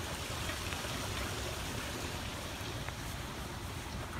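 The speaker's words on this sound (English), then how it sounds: "Love to hear that water feature." Steady water trickling from a garden water feature outside a house with decking and a trampoline, a continuous close splashing wash with no talk.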